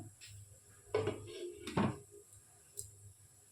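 A lid is set down on a cooking pan while paneer kofta is being made, giving two close, distinct clatters of metal on metal about a second apart, followed by faint clinks in a quiet kitchen.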